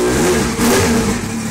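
A 2001 Yamaha R1 motorcycle engine runs loud and close, revving up briefly and then settling back toward idle.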